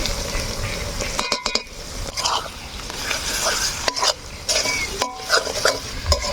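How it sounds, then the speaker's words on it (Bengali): Spices stirred and fried in a pan with salt and turmeric while cooking a chicken dish with taro leaves; steady sizzling with repeated scraping stirs and utensil clinks, close and continuous. "আমরা কিন্তু মশলা খান বেশ খানিক্ষণ ধরে ভালোভাবে কষিয়ে নিয়ে"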